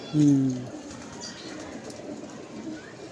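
A pigeon coos once loudly and close at the start, then fainter bird sounds follow against an outdoor background.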